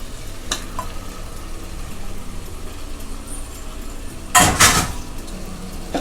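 Washed mutton coated in turmeric goes into sizzling masala in a pan for biryani, a low steady frying hiss with faint stirring scrapes and one loud clattering splash of meat hitting the hot pan near the end.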